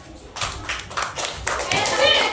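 Primary-school children in a classroom clap together in a short burst of applause, close and lively, with a voice talking over the clapping.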